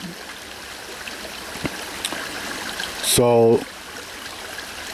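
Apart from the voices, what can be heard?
large flow of water running where a tree was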